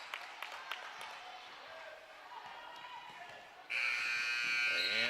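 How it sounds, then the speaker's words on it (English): Gym crowd noise and a dribbling ball at an 8th grade basketball tournament game, then a loud sustained end-of-quarter buzzer blares abruptly near the end and holds to the finish. "Time expires as the buzzer sounds in the first."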